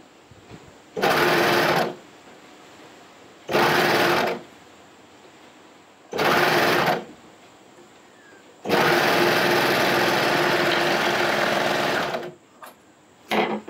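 A sewing machine stitching a rash guard in four loud bursts, three short runs and one long run, separated by quiet pauses, close up with no talk.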